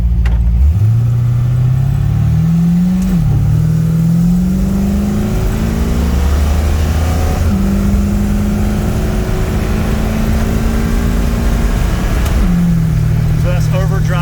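A 377 small-block Chevy pulls hard through a 200-4R automatic, its engine note climbing under load and then dropping as the transmission shifts up and into overdrive, repeating the pattern several times. The loud, steady engine sound stays close and fills the clip.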